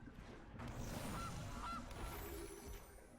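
A goose honk plays as the Gilded Goose card resolves in MTG Arena, two short nasal honks over a dense, busy game soundscape, moderately loud and close.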